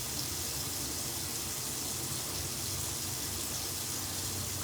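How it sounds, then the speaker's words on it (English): Tap water runs into a sink while warming up, a steady broadband hiss and gush that continues unbroken and close throughout. "what you hear is my water going"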